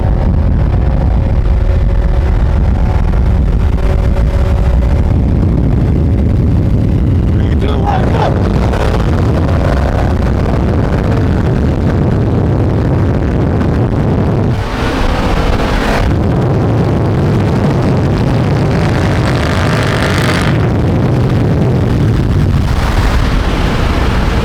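BMW N55-engined car fitted with a B58TU high-pressure fuel pump accelerating hard, a loud sustained engine roar with wind and road noise throughout and brief breaks in intensity around gear changes.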